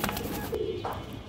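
Caged female pigeons, hoarse-throated, give soft low coos that swell and fade, near and fairly quiet, with a brief brighter call near the end.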